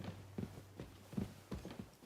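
Horse hooves clip-clop at a walk in the medieval game Kingdom Come Deliverance 2, a handful of uneven hoofbeats thudding at moderate distance with no talk over them.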